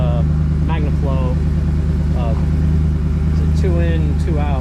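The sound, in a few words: RAM Rebel truck engine through MagnaFlow exhaust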